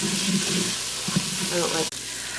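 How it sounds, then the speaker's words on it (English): Onions sizzling and frying in an Instant Pot, a steady hiss with faint stirring scrapes, while a voice briefly speaks. "While our onions are cooking"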